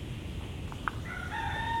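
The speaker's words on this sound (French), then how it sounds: "La petite poule est toujours là." A small hen makes a short cluck outdoors, followed by a brief rising call, faint against steady background noise.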